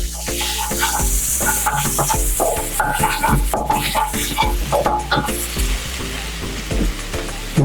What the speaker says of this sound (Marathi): मसाले यांना व्यवस्थित तेलात भाजून घेऊया